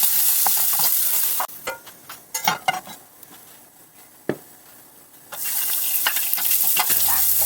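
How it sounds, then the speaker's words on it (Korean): Zucchini is stir-fried in a pan with a loud sizzle that drops away for a few seconds and then returns, broken by scraping and tapping from the stirring utensil, close by. "애호박, 느타리버섯, 홍고추, 표고, 소고기 순서로 볶을 거예요"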